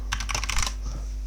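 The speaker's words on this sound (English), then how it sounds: "oops, I'm typing in the wrong place." Rapid clatter of keys on a computer keyboard, a quick burst of typing lasting under a second, then quiet.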